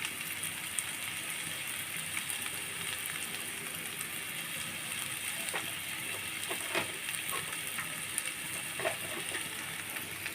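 Spice paste stir-fried in a pan for a spiny eel curry, giving a dense, steady sizzle and hiss close up with occasional soft scrapes of stirring.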